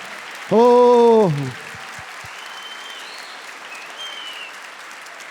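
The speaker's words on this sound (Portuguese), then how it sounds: "Vamos aplaudir o Papa Francisco aqui na palavra dele." Steady applause for Pope Francis from a congregation at a Catholic service, fairly soft and continuous after a single loud voice exclaims near the start.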